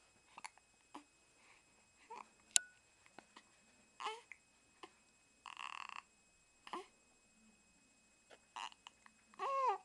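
A young child hiccups repeatedly, with short, sharp bursts spaced irregularly across a quiet indoor setting, mixed with a few brief vocal sounds.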